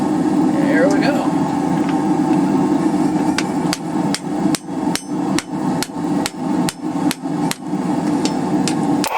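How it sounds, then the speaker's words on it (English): Hammer strikes forging and straightening a bent steel fork of unknown steel, about a dozen sharp metallic blows in a steady rhythm starting a few seconds in, loud and close over a constant droning background hum. "see if this is cast, just by straightening out that bend in it and forging it a little bit"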